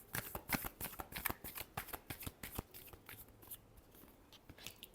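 Tarot cards being shuffled in a rapid, steady riffle of crisp flicks and slaps, close and fairly loud, running throughout with no talking.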